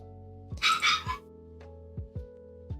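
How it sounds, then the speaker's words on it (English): A dog barks loudly in a few sharp bursts early on, followed by several shorter yips or barks spaced out over a steady indoor background hum. "Can my dog shut the fuck up?"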